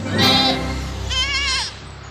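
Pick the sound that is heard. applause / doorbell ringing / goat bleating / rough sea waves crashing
goat bleating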